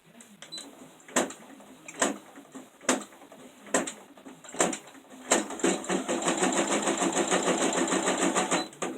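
An embroidery machine stitching an in-the-hoop Easter runner, starting with scattered sharp clicks and thumps, then settling into a fast, steady mechanical stitching rattle, close and fairly loud.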